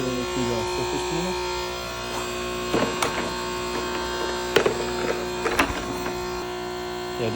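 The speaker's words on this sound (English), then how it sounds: "now at this moment, I switched it over to the surface cleaner." A Ryobi 3000psi electric pressure washer runs with a surface cleaner attached, giving a steady, moderate mechanical hum and buzz throughout with a few sharper knocks, while someone talks over it.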